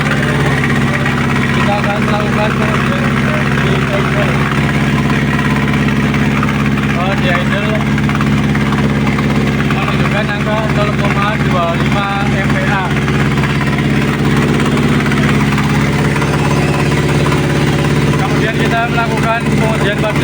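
Car with an EFI fuel system idling during a fuel-pressure test, a steady continuous engine hum held throughout with people talking over it.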